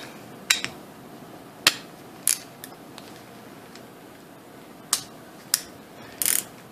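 A wrench ratchets against an AR-15 barrel nut being torqued tight, giving about eight sharp metallic clicks spaced irregularly over several seconds, close and distinct in an otherwise quiet workshop.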